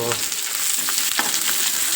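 Chopped green onion dropped into hot oil for a paneer, cauliflower and pea curry, giving a loud steady sizzle and crackle with a few stirring clicks, close and without speech.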